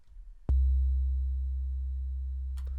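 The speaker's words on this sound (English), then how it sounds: "So this is pretty much just a sine wave" Self-designed 808 bass made almost entirely of a pure sine wave: one deep, smooth booming note that starts abruptly and sustains while fading slowly, with a short clicky noise at the end.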